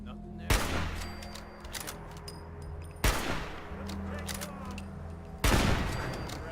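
Turret gunfire in the video game Fallout 4 breaks out in three loud bursts, each fading into a rattling tail, heard alongside other game sounds.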